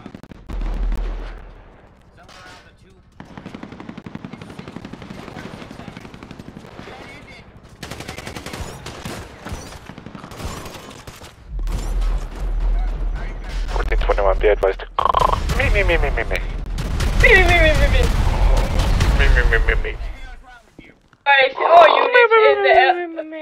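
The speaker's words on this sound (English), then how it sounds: "we are taking shots here on top of the parking garage" Bursts of gunfire ring out in a GTA roleplay game during a fight on top of a parking garage, rapid loud volleys mixed with several people talking and shouting over radio chatter.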